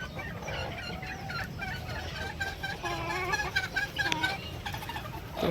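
Free-range country chickens cluck steadily near and far while eating fish waste on a farm, with occasional crowing mixed into the flock chatter.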